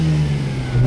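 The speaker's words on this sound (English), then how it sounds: "You hear that engine?" A 2004 Mazda RX-8 rotary engine revs loud and close for a brief second, a steady droning pitch that climbs slightly toward the end, with no voices over it.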